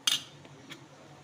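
A metal spoon clinks and scrapes against a dish while stirring red chilli pickle, one sharp clatter at the start and a softer tap later, close and fairly quiet.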